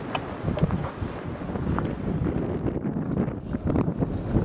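Cold winter wind in a snowstorm buffets the microphone in rough, gusty roars that rise and fall throughout, loud and close, with no voices.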